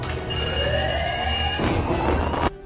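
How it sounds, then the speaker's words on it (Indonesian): A loud electric alarm bell rings continuously with a harsh metallic clatter, then cuts off abruptly near the end. "ia pun keluar sambil menarik alarm peringatan"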